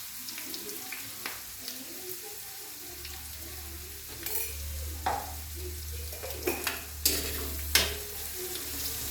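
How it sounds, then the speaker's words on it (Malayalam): Prawn pickle being stirred in a pan with a low sizzle and scattered scrapes and clinks of the spoon, growing busier toward the end, with a steady low hum underneath. "നമുക്ക് നന്നായിട്ട് അത് ഇളക്കി കൊടുക്കാം."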